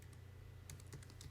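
Keys clatter in quick irregular bursts on a computer keyboard while product and description fields in a CSV data import are being filled in, close and fairly quiet, with a steady low hum underneath and no talking.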